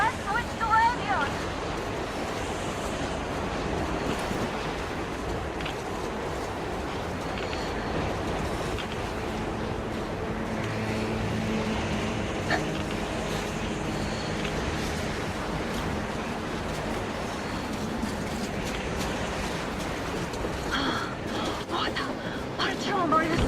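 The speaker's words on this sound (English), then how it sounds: "Now that's what I call a blizzard. Can't see a thing." Howling blizzard wind in the video game Metro Exodus, a continuous rushing roar with gusts that swell and fade over long stretches, with characters talking over it.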